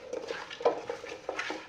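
Biryani ingredients with coriander powder being mixed in a pot, close soft scraping and clinking strokes in an uneven rhythm.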